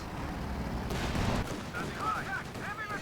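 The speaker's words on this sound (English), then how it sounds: "He's going to go for a grenade volley on the Dushka." Grenade volley and gunfire in the real-time strategy game Company of Heroes 2, a Soviet squad throwing grenades at a Dushka heavy machine gun position: dense, continuous battle noise with sharp bursts and crackling shots, a louder blast in the middle.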